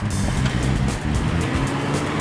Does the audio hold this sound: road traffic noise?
yes